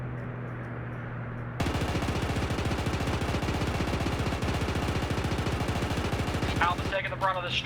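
An aircraft strafes in a video game: a sustained burst of dense, rapid machine-gun fire erupts abruptly and roars loud for about five seconds, then cuts off as a voice speaks.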